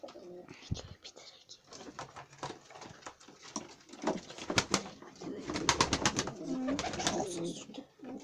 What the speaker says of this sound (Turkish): Böyle kuşlar var.